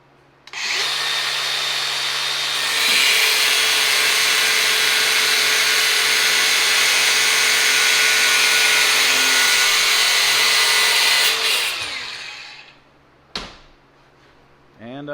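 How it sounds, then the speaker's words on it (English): A cutoff wheel grinds through a steel shaft on a Subaru Sambar KS4 during a body lift, a loud sustained high-pitched screech lasting about eleven seconds before spinning down, followed by a brief clunk. "now I just need to cut through this shaft right in the middle there."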